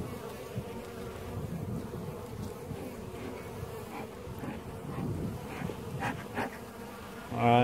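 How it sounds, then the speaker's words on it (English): Honeybees buzzing around an open hive on a warm, windy day, a dense steady drone of many insects close by with individual bees flying past, some wind rumble underneath. "Look at my bees here."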